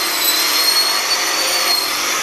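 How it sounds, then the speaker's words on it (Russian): An angle grinder grinds chamfers off rubber paving tiles outdoors, a loud, continuous, harsh hiss that stays steady and close throughout with no talk. "Фаски мы снимаем, ну, банальным образом, болгаркой стачиваем."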